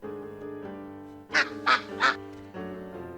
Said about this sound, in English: The very place to spend the night," quacked Mr. Mallard